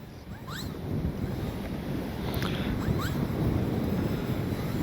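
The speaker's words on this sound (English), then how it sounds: "let's continue on in this crazy wind." Strong gusty wind buffeting the microphone at an RC flying field where an E-flite Piper Cherokee model plane is flown, a loud continuous low roar with faint whining motor sweeps above it.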